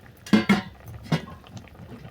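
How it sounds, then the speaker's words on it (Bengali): A pan of rohu fish and seeded banana curry being stirred with a metal spoon: a few quick clanking scrapes against the pan, then quieter shuffling, close and without talking. "এটাকে আমি অল্প করে নেড়েছে আরও দু মিনিটের জন্য ঢেকে দিলাম"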